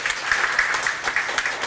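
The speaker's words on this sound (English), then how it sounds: "can I have a round of applause for them too" An audience at an innovation award event applauds the winners, a brief, steady patter of many hands clapping at moderate distance.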